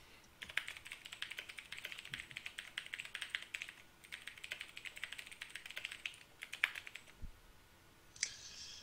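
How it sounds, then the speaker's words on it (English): Rapid typing on a mechanical keyboard, quiet bursts of crisp key clicks with brief pauses between runs and a louder clack near the end. "it's mechanical keyboard, so it might be a bit annoying for stream"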